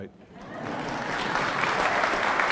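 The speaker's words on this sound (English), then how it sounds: "Yes, please clap." Audience applause at a choir performance swells from a quiet start into steady, dense clapping that carries on throughout.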